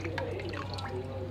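Water runs from a homemade pedal-operated hand-washing tap at a sanitization station, a steady splashing trickle with small drips heard close up.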